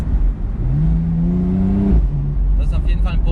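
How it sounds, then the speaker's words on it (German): A Porsche 911 (991.2) turbo with a flap exhaust revs once, rising and then dropping off, followed by a short lower burst and some crackles, heard fairly close. "Und der Porsche hat eben eine Klappenauspuffanlage."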